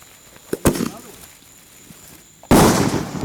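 Fireworks are set off outdoors: a few sharp pops early on, a quieter gap, then a loud, sustained crackling burst near the end.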